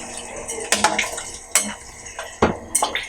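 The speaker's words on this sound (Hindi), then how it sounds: "देखें 2 गिलास के करीब मैंने पानी डाल दिया" Water poured into a cooking pot for chicken yakhni, with splashing and several clanks of metal utensils against the pot, close and moderately loud.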